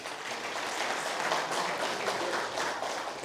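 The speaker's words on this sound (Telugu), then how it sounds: "ఒక్కసారి చప్పట్లు కొట్టుకుందాం." An audience claps for a management team at a real estate gathering, a dense, steady patter of many hands sustained at even loudness throughout, with no voices on top.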